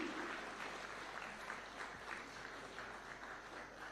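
Audience applause at a Taxpayers' Day award ceremony, honoring a tax enforcement award winner; steady, fairly faint clapping from a large room that holds evenly for several seconds.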